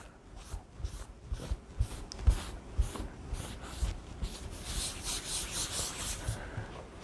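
A cleaning pad wipes across the outer lid of a closed laptop, producing a run of rhythmic, close rubbing strokes, steady back-and-forth swipes with no talking.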